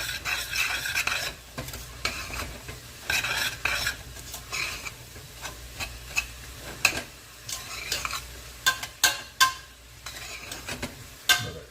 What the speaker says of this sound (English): cumin, coriander, a little bit of mustard seed, and oregano. Stir this around.